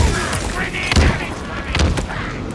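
A frag grenade goes off during Halo Infinite gameplay, with a couple of short booming thumps amid busy game noise and a cluttered mix.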